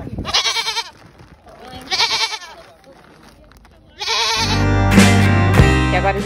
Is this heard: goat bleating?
yes